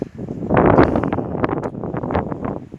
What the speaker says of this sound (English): Just take a moment to listen to the wind.